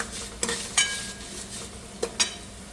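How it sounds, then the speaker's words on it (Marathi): Vermicelli (gavle) roasts for kheer in a pan on low heat, a soft sizzle under a few distinct scraping and clinking stirs of a spoon against the pan. "त्याच्यामुळे थोडेसे आपण कमी गॅसवर भाजून घ्यायचे"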